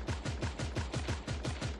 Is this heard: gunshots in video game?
yes